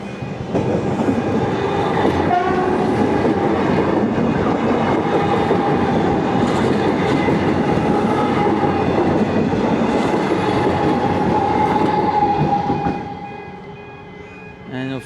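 A train pulls out of a suburban rail station where track work is under way, producing a loud, continuous rolling rumble with rhythmic wheel clatter and a faint squeal that fades near the end.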